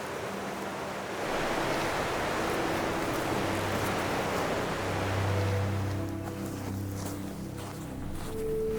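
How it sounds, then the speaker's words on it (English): The Merced River flows through Little Yosemite Valley along the John Muir Trail, a steady broadband rush of water with a gentle swell in level, continuous and fairly close, with a faint low hum underneath. "with the Merced River still flowing by our side"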